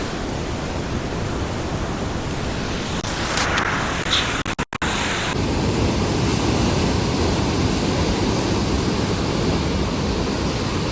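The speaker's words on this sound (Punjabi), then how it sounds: "ਬਹੁਤ ਜ਼ਿਆਦਾ ਪਾਣੀ ਛੱਡਿਆ ਜਾ ਚੁੱਕਿਆ ਹੈ 52 ਗੇਟਾਂ ਤੋਂ ਬਿਆਸ ਦਰਿਆ ਦੇ ਵਿੱਚ" Heavy floodwater pours through the 52 gates of Pong Dam into the swollen Beas river, a steady broadband roar that runs unbroken throughout, with a brief clatter midway.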